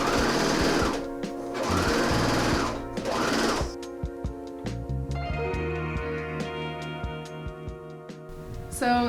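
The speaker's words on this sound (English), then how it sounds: "So basically I still gotta serge it" Serger sewing machine stitching denim for a blanket project, several loud bursts of rapid whirring stitching followed by slower rhythmic mechanical ticking and clatter, close up, with no talking.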